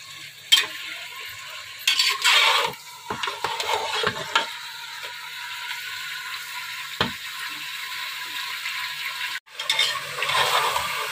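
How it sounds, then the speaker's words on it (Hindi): Pieces of beef fry in a pot, a loud hissing sizzle that swells and fades with bursts of stirring and scraping against the metal, with a brief dropout near the end. "और गोश्त को हम थोड़ा फ्राई कर लेंगे ताकि ये पिंक से व्हाइट की तरफ चला जाए।"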